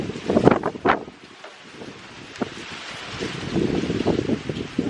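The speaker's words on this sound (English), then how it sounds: "oh my gosh, so windy." Gusty wind by a villa pool in the South of France buffets the microphone, rumbling loudly in bursts at first and then settling into a steady rushing roar.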